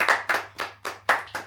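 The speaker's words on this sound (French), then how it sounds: "On peut l'applaudir." Friends applaud the winner of a casual football quiz, giving about six distinct, fairly close hand claps in an uneven rhythm with no talking.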